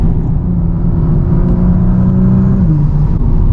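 An Audi S4 fitted with a sway bar kit accelerates on the road, its loud engine rumbling steadily with a pitch that climbs and then drops, heard up close from inside the car.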